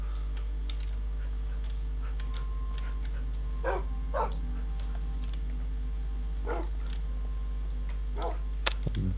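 A dog in the Minecraft video game barks several times, short separate barks spread across a steady low game hum, followed by a sharp click near the end.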